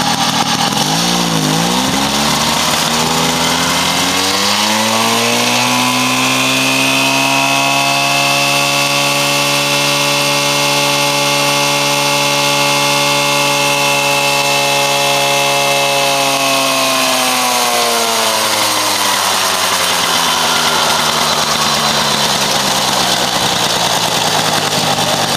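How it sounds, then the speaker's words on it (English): A small Mobylette moped engine with electronic ignition revs up from idle to a high, sustained whine, holds near full revs for a long stretch, then drops back to idle. "I'll just give it a good revving up to maximum revs again"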